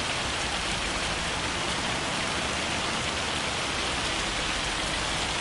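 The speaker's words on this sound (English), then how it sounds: "I do wish it would stop raining" Steady rain falls in Farming Simulator 25, a dense, even hiss of drops hitting surfaces that holds constant throughout with no talking.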